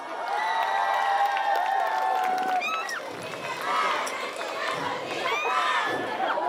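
A concert crowd cheers and shouts with scattered clapping at an outdoor charity show, high voices and whistling calls rising and falling in waves for several seconds.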